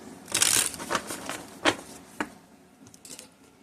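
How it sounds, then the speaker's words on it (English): A deck of tarot cards being shuffled in quick bursts of papery riffling and slapping, loudest near the start, then a few sharper card snaps, fairly close and with no talking. "Let's get 5 cards here."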